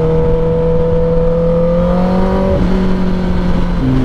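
Steady motorcycle engine drone with exhaust note while riding through traffic, holding a constant pitch that shifts slightly as the revs change, loud and close with no talk over it.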